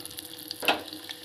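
Urad dal fries in hot oil for rava upma with faint crackling and light sizzling, a brief spatter burst in the middle and no talk.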